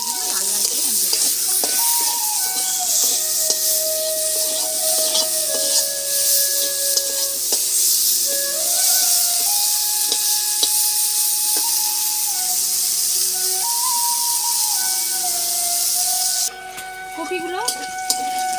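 Cauliflower florets fry in a pan of oil and are stirred, with a continuous loud sizzle and scraping stir strokes throughout, and an abrupt drop in the sizzle near the end.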